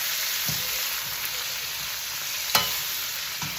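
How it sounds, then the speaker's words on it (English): Onions and broccoli stir-fry in a pan with a soft, continuous sizzle, broken by a few light clicks and taps as the vegetables are moved. "And we're going to let that stir fry up a little bit."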